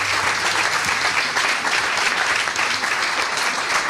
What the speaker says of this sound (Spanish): os voy a pedir otro aplauso más para los 6